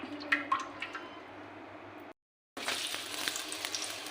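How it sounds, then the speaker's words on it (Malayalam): Sliced onions frying in hot oil in a pan for chicken curry: a soft crackling sizzle with a few sharp pops, cut by a brief dropout before the frying resumes. "ഫസ്റ്റ് നമുക്ക് ഓയിൽ ഒഴിച്ച് ഈ സവാള ഒന്ന് ഫ്രൈ ചെയ്തെടുക്കാം."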